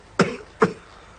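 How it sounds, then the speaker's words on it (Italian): Two sharp coughs, about half a second apart, sound close and clear from a person, with quiet room tone between them. "Me perdoni, signora, se ho tossito"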